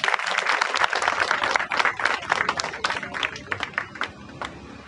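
Crowd applauding at the inauguration of a main-road-facing party office in Ward 48, Malvani, Malad, steady dense clapping throughout with sharper individual claps standing out, fading slightly toward the end.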